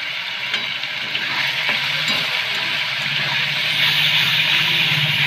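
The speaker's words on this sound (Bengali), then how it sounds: "ভাজাটা মোটমাট হয়ে গেছে," Loitta (Bombay duck) fish with salt and turmeric fries in oil in a pan, giving a steady, dense sizzle with small crackles throughout, close and fairly loud, with no talking.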